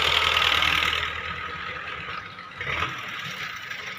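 A Massey Ferguson 85 tractor engine running, a steady mid-pitched diesel drone with a slight knock that dips briefly and then swells again, heard without voices.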